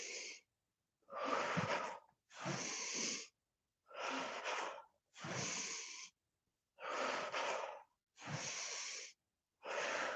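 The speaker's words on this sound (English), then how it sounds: "Right now, I'm inhaling up, exhaling down." Deep, steady breathing during a morning yoga routine of twists and Tibetan Rites: eight long rushing breaths, inhales and exhales alternating in an even rhythm, close and loud, separated by brief silences.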